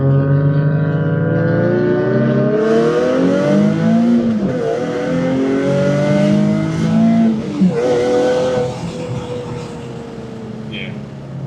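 A Nissan 370Z fitted with equal length headers and a valve exhaust revs hard, its engine note climbing and falling in several sweeping pulls, loud and close, with voices talking over it.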